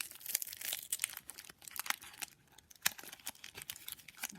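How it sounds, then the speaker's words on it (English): Paper or plastic pulled from a dumpster being torn and crumpled, a run of crinkly rips and crackles with short pauses, close and fairly quiet, no talking. "I didn't really want to rip this."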